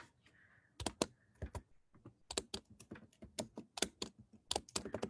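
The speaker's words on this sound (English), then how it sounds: "That's why I'm typing so loudly." Loud typing on a computer keyboard, sharp key clicks arriving in quick irregular clusters with short pauses between bursts, close and alone.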